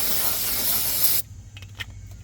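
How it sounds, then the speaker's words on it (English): Brake cleaner aerosol sprays onto a Ford F150 wheel hub in one loud, steady hiss lasting just over a second, then stops, leaving faint clicks and handling noises. "So grab your brake clean and spray the hub down."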